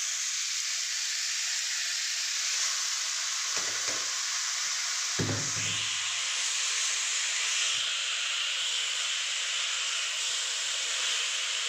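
Bottle gourd frying in a little oil in a pan, giving a steady, close, bright sizzle that runs throughout, broken by a couple of brief stirring knocks partway through.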